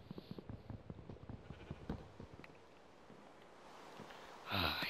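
Sheep bleating in Minecraft, a run of short repeated bleats and snorts near the start, then a quieter stretch ending in a louder burst of noise; no speech.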